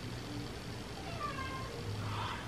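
A cat meows softly a couple of times, rising and falling, over a low steady background hum.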